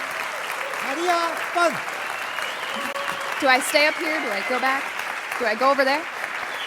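Science slam audience applauding after a talk, continuous steady clapping throughout, with a speaker talking over it.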